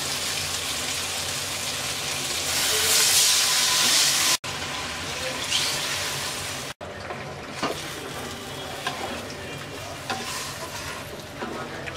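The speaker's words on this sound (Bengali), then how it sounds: "এবার দিয়ে দিচ্ছি 2 কাপ পানি।" Two cups of water poured into a hot pan of fried spices and chillies for a pabda fish curry, a loud hissing rush early that eases into a softer bubbling simmer with small clinks.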